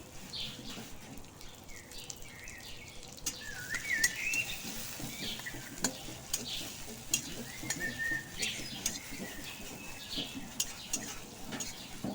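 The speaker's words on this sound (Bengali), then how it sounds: "পেঁয়াজটা একটু নাড়াচাড়া করে ভেজে নেবো" Onions frying in a pan for a village-style egg curry, a faint sizzle under intermittent soft scrapes and clinks of stirring, with occasional birdsong in the background.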